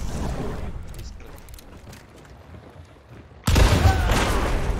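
Gunfire in a first-person shooter video game: a loud, sudden burst of dense shots starts abruptly near the end, following quieter, muffled game background, with someone speaking faintly in between.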